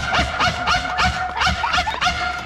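A mimicry artist on stage imitates a small Pomeranian dog with his voice, giving a rapid series of high yapping barks in a steady rhythm, loud and close.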